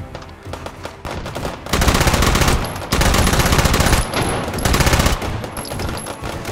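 A submachine gun in the VR shooter H3VR fires in loud, rapid sustained bursts, several long rattling strings of shots broken by short pauses, with faint metallic pings scattered on top.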